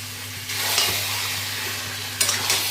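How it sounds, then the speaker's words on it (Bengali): Marinated chicken coated in ginger-garlic paste, yogurt, cumin and chicken masala sautés in a pan with a steady, loud sizzle, stirred throughout, with bursts of scraping around the start and near the end; no one talks. "এবার মাংসটাকে আস্তে আস্তে ভালো করে কষাবো।"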